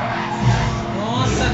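A car skids out of control in the racing game Need For Speed Hot Pursuit 2, a brief, loud tire screech over steady engine roar and game noise.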